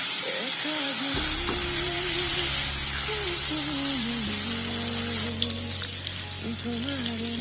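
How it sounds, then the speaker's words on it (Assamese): Meat being dry-fried with tomato in a pan, stirred now and then, gives a steady close sizzle throughout, with a low constant hum and tonal voice-like traces running under it. "শুকান ভাজিয়ে বনাম মাংসখিনি আজি, আৰু কিন্তু লৰাই থাকিম।"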